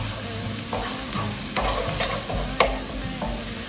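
Chopped garlic sizzles and fries in a hot pan with a spoon stirring through it, a steady close crackle with occasional scraping strokes and no talking.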